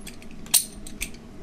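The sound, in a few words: hiss of a large beer bottle being opened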